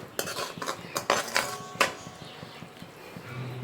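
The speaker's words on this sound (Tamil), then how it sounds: "மறுபடியும் இது ஊற்றிட்டு நல்லா கலந்து விட்டுக்கலாம்." Beetroot halwa with milk being stirred in a pan on the stove, a spoon clinking and scraping against the metal in a quick series of sharp hits that fade to quieter stirring.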